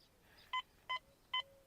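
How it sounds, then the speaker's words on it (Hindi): A Quest X10 Pro metal detector beeps over a buried target, sounding three short, evenly spaced electronic tones that are faint against a quiet background. "अभी आप सुन सकते हैं उस टारगेट को ये डिटेक्ट कर रहा है।"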